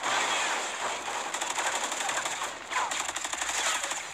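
Gunfire in the shooter video game Call of Duty Ghosts: rapid automatic bursts, dense and continuous, over a steady roar of battle noise.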